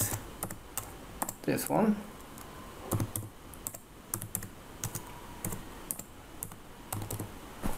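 A command is typed into a Windows command prompt on a computer keyboard. Crisp, close keystrokes come in irregular bursts, with a few louder clicks, and someone speaks briefly over the typing.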